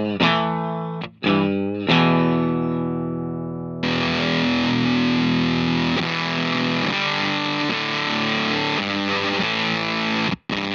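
Electric guitar played through a Marshall Plexi amp simulation on a clean setting, a few ringing chords left to sustain and then steady strummed chords, loud and alone with no talk.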